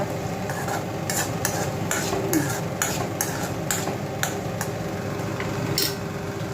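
Vermicelli (shavige) stirred and fried in a pan, with a steady sizzle under repeated scraping strokes of a utensil against the pan, close and fairly loud, no talking.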